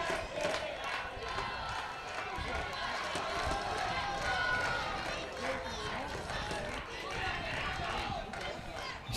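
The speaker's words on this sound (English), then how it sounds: "you see the crowd's really livening up here as this game is winding to a close" Crowd noise swells steadily at the women's over-40 hockey final between Australia and Argentina at the 2024 Masters World Cup, a dense roar with cheering and running footsteps, mixed under a commentator's voice.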